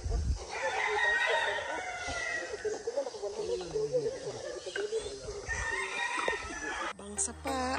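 A rooster crows loudly nearby with a long harmonic call, followed by hens clucking in a busy farmyard on a rural farm on Camotes, Philippines.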